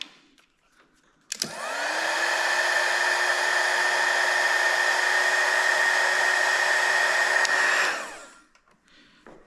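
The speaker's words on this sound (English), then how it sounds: "And then I take my little heat gun here." A small handheld heat gun, used to shrink tubing on a servo lead, switches on with a click, blows a steady loud whooshing whine for about six seconds, then shuts off and winds down.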